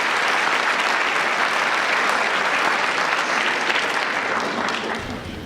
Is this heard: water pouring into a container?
no